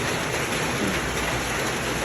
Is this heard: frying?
no